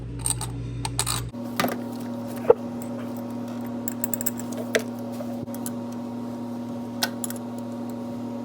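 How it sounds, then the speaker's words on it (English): Bolts are fitted to a thermostat housing cover on a Ford 4.0 SOHC engine, with small metallic clicks and taps scattered over a steady low hum, one sharper clink standing out; no one talks. "And the 3 bolts that hold the cover on."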